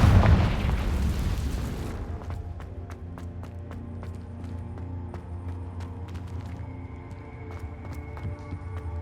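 A Confringo blasting spell erupts in a Harry Potter video game, a loud booming explosion for the first two seconds that fades into a low hum with sharp clicks and tones from the game.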